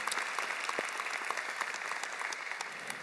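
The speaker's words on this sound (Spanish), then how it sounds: "eso es algo que merece un fuerte aplauso también" Church audience applauding, a dense, continuous wash of clapping from many hands, moderately distant and steady throughout.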